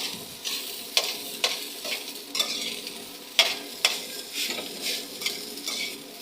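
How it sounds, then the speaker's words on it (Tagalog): Egg fried rice being stirred in a pan, with repeated spatula scrapes and taps over a steady sizzle, each stroke a sharp click in an irregular rhythm, close and moderately loud, no talking. "Halo lang ng halo"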